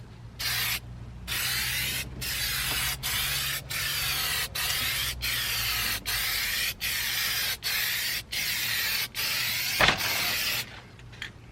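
An aerosol spray can applying a coat to an RV dashboard, a loud close hiss in repeated bursts of about a second each, separated by brief gaps, with a steady low hum beneath.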